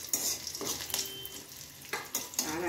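Bottle gourd goes into a pan of oil with fried panch phoron, sizzling steadily while a spatula stirs and scrapes in several sharp bursts.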